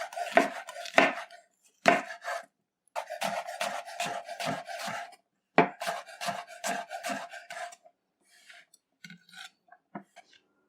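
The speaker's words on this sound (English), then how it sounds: "Now we're going to cut them up now." Squash being cut into pieces with a knife on a board: a close run of sharp, rhythmic chopping strokes in quick bursts, trailing off into a few lighter, scattered taps.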